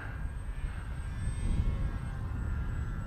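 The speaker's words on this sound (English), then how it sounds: "See if we can warm up the motor." Ranger G2 RC plane with an electric motor on a 4S battery, flying under load in windy conditions: a steady, moderately distant whine over wind rumble, holding level throughout.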